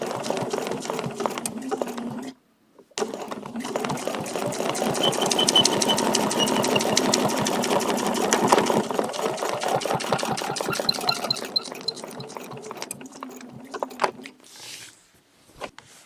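A sewing machine stitches a feather leaf vein along a template in a fast, steady, mechanical run of needle strokes, close and fairly quiet, pausing briefly early on and trailing off at the end.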